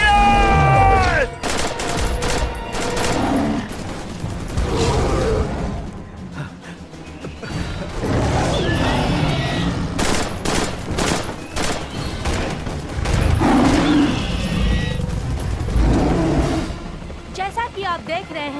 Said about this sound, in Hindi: फायर! फायर! गोलियां चलाओ!